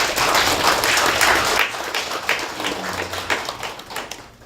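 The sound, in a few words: audience applause for a priest at a workshop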